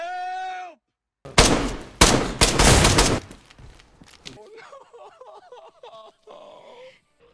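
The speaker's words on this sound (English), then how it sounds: "I'm shooting a zombie." Burst of gunfire while fighting a zombie in the DayZ video game: several loud, rapid shots packed into about three seconds, followed by fainter groaning and wailing sounds.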